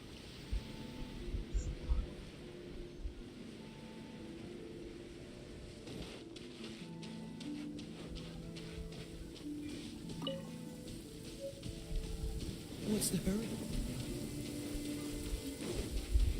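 Steady rain falling in the game Genshin Impact, a soft continuous hiss that runs under the whole stretch, with a person talking over it and background game music.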